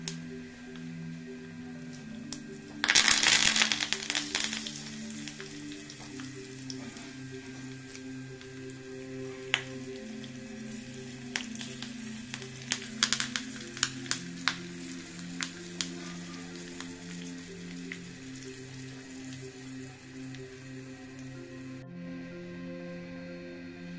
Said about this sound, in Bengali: সর্ষে থেকে খুব ভালো চটপটা আওয়াজ বেরোচ্ছে।